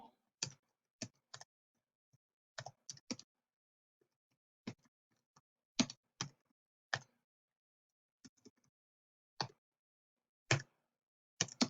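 Sparse keyboard typing, isolated clicks and short bursts of keystrokes with pauses between, close and fairly quiet with no talking.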